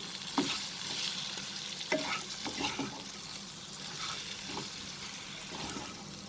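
Onion and dried red chilies sauté in a pan for a chicken roast: a soft, steady sizzle broken by several scraping stirs at irregular intervals, fairly quiet and without talk.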